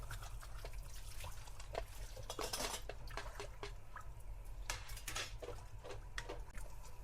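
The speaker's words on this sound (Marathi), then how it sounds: "दोन मिनिटं हलवायचं आहे फक्त." Food being stirred in a cooking pan, with a run of scraping and clinking of a utensil against the metal over a steady low hum and faint sizzle, no talking.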